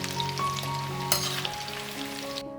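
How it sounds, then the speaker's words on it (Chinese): Battered pork tenderloin re-fried over high heat in hot oil for sweet and sour pork, a close, dense crackling sizzle with sharp pops, no voices. "开大火给它复炸一下，这样炸的会更加酥脆"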